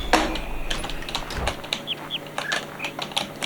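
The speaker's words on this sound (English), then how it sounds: "Proop, proop. That was the bird noise." Bird noise puzzle sound in the video game The Witness, a few short chirping tones in high-low pitch pattern, heard alone among light clicking and tapping sounds.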